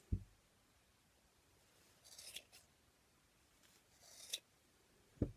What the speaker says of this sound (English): We're going to cut open all those loops.